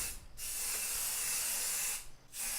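Spray paint can hissing onto a homemade dance pad, one sustained close spray burst between two brief pauses, dry and steady with no talking.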